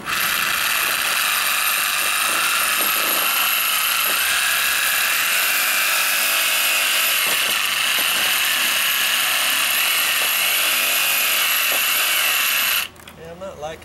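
A reciprocating saw cuts steadily with a rapid, buzzy chatter, close and continuous for about twelve seconds before it stops suddenly, with faint speech in the background.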